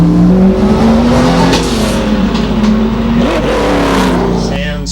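A Holden LJ Torana race car at a hillclimb roars past, its engine droning loud and near with shifting revs, while a voice talks over it.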